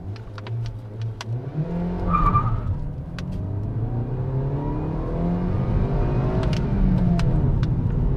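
Kia Rio 1.4 CVVT sedan accelerating hard on an empty closed road, a loud steady engine note rising in pitch through the gears, heard from inside the car with brief shifts between gears.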